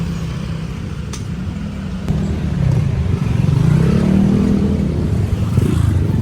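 Steady road traffic rumble heard from a moving tricycle in busy streets, a continuous loud low engine drone with passing vehicles swelling and fading, no talk.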